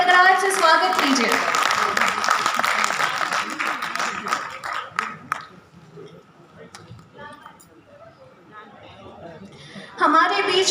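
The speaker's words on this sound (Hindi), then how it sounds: "जोरदार तालियों की गड़गड़ाहट से स्वागत कीजिए" An audience claps loudly to welcome the Dhanbad municipal administrator at a Kashmiri youth exchange programme. The dense applause fills the first five seconds, then thins into scattered claps and murmur before rising again near the end.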